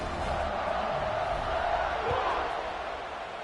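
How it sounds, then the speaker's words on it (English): A stadium crowd in an American football video game roars in a steady, dense wash of cheering that holds at an even level for a few seconds, with no clear voices above it. "this crowd is feeling themselves after that last drive"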